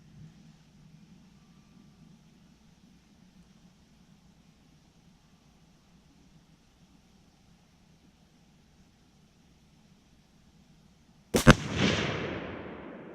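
A single loud crack from a Sig Sauer SSG 3000 bolt-action rifle at a shooting range, breaking a long quiet low hum and trailing off in a short echoing decay.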